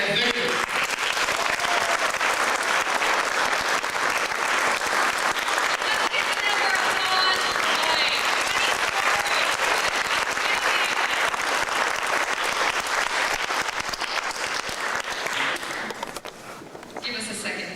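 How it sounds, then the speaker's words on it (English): Steady, dense applause from a theater audience fills the air for a musical trio, sustained at an even level before tapering off near the end. "let's go ahead and give a warm round of applause for Janet,"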